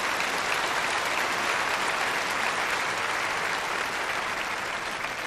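Steady, dense audience applause that holds at an even level throughout, full and continuous, with no voices over it.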